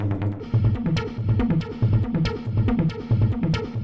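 Saturated, noisy industrial techno synth bass and key line built in Ableton Operator, playing a repeating pulsing low riff with sharp percussive hits on top, loud and alone.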